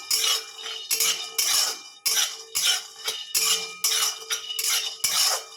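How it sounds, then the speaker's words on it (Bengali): Peanuts dry-roasting in a dry kadai are stirred with a metal spatula, giving repeated close scraping and rattling strokes in a steady rhythm, about nine passes, with no talk. "এই জন্য বাদামটা একটু শুকনো কড়ায় ভেজে নিচ্ছি"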